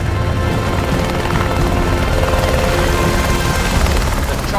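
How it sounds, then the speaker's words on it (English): A helicopter lands during a rhino darting operation, its rotor and turbine roar loud, steady and dense throughout with no voices. "The chopper's landed, the vet's going to be getting out of the chopper"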